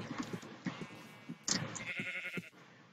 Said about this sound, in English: Let's kill this sheep.